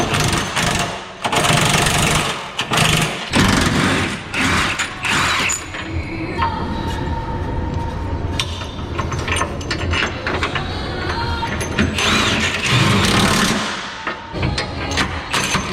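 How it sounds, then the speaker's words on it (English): Bolts being driven in with a ratchet or impact tool while a 2022 Ford Maverick 2.0L is being lifted 1.5 inches; close mechanical clicking and whirring bursts with metallic rattles, loud and continuous for about fifteen seconds. "And then we'll put on our new bolts."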